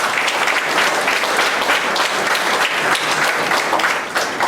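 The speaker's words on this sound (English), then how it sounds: "you can give a big round of applause" A lecture-hall audience gives a big round of applause, dense sustained clapping from many hands, loud and continuous throughout with no break.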